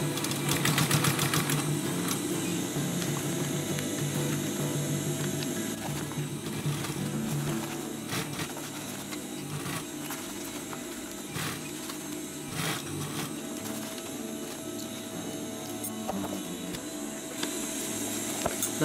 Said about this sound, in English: reinforce it. And continue sewing.